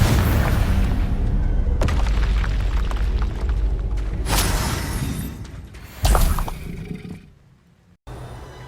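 Confringo blasting spells burst in Hogwarts Legacy, a run of loud, booming explosions with roaring rumble between them, with fresh blasts striking at intervals and one final burst after a brief drop.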